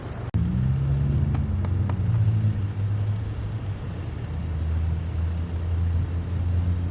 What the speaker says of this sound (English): The truck has made it onto the site.